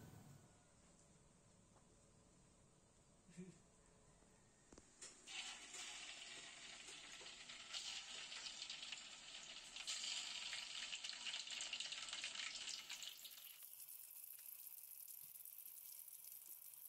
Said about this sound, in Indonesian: Selanjutnya, persiapan menggoreng tahu.